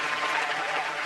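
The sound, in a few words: audience applause for Jeezy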